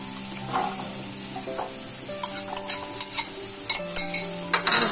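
Green peas sizzle in a hot pan with a steady frying hiss, as a spoon stirs and scrapes against the metal in quick irregular clicks.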